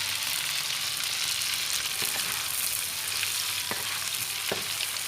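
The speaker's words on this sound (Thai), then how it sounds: "ทอดกรอบๆนี่จะอร่อยมากกว่า" Pork intestines deep-frying until crispy, marinated with a little soy sauce and seasoning: a steady, dense sizzle of hot oil fills the clip, with a few sharp crackles and pops breaking through near the end, no talking.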